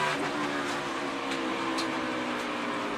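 In-car roar of a NASCAR Chevrolet race car at Dover, engine droning steadily and loud throughout, with a harsh broadband scraping texture from the splitter dragging on the track.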